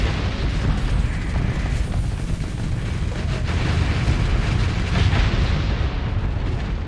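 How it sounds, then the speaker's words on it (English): Explosions in the space combat game Starsector form a dense, loud barrage of booms and bursts, rumbling continuously with no talk over them. "You guys kind of got caught up in your own explosions there, didn't you?"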